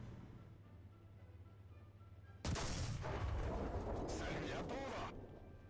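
AMX-30 tank cannon firing in a video game, a sudden loud heavy blast with a long rumbling tail, rising abruptly over a low engine drone and dying away after a couple of seconds.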